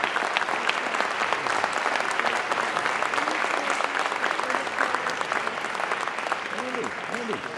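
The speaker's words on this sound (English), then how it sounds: "Once again, a big round of applause for Jordan Wright" A convocation audience gives a speaker sustained applause, dense and loud clapping from a large crowd that holds steady throughout, with murmured voices mixed in.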